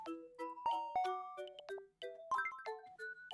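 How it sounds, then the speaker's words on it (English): Bright ding-dong chime from the video game Tomodachi Life, a quick run of clean bell-like tones stepping up and down in a lively melody, clear and close with no talking. "Ding dong."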